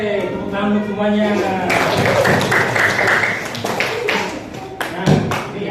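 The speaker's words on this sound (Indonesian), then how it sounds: "Oke, tepuk tangan untuk semuanya." A fourth-grade class bursts into applause, many hands clapping in a lively burst that starts after a short spoken lead-in and keeps going in uneven bursts, with voices mixed in.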